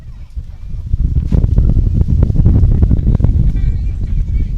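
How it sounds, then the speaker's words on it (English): Gusty wind buffeting an outdoor microphone at a baseball park, a loud low rumbling roar with irregular thumps, with a voice talking throughout. "As the wind gusts continue here at Lions Park"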